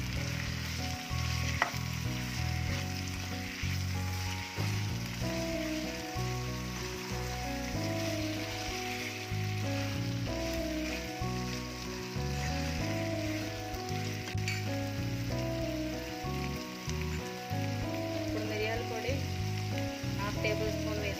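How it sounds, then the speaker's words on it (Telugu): Chicken pieces frying in a pan for restaurant-style hariyali chicken, a steady loud sizzle with repeated stirring scrapes and clatter throughout, close by, with faint background music. "ఫ్రై అయిపోయిందండి, ఇప్పుడు చికెన్ వేసేసుకుందాము. ఇప్పుడు ఒకసారి బాగా మిక్స్ చేసుకోవాలండి."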